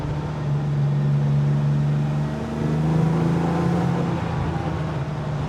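Steady engine drone from a BMW 3.0 CSL Batmobile on the move, a sustained low hum that dips briefly and then carries on, heard close from inside the car.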